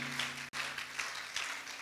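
Church congregation applauding and acclaiming, a steady wash of clapping and cheering held at moderate level, broken by a brief cut near the middle, with a low hum underneath.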